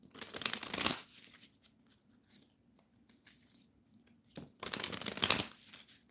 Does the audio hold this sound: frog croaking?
no